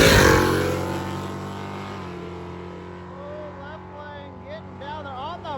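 Hot rod drag race car roaring off the line, loud engine blast fading into the distance over a few seconds, with a rising whine of another car near the end and faint voices underneath.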